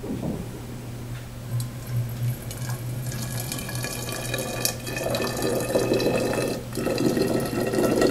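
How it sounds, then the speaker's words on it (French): Boiling water is poured into a transparent bottle, a continuous splashing, gurgling fill that grows slightly louder and fuller as the bottle fills, with a faint low hum underneath. "on introduit dans notre bouteille de l'eau bouillante"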